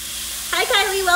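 Ground grass-fed beef hitting a hot pan bursts into a loud sizzle about halfway through, rising sharply from a quiet start and carrying on in close, uneven hissing surges.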